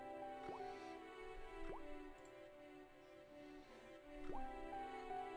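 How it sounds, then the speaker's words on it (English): An old faucet in the Broken Sword point-and-click game gives three soft, quiet drips and plops of rusty water, spaced over a few seconds against a faint tonal background. "The faucet creaked, coughed, and spewed out a stream of rusty-colored water."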